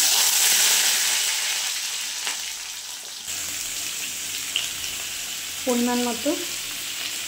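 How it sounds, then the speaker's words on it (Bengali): Taro and potato pieces go into hot tempering oil and sizzle with a steady, loud hiss that eases partway through. A voice speaks briefly near the end. "এর মধ্যে কচু আর আলুটা ছেড়ে দেওয়া হবে।"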